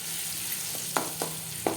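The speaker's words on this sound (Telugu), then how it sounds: "ఈ పోపులో ఈ గ్రైండ్ చేసిన మ్యాంగోది వేసి కలుపుకోవాలి." Ground mango paste stirred into a hot sizzling tempering for mango roti pachadi, a faint steady sizzle with a few soft scraping stirs, close and quiet, no talk.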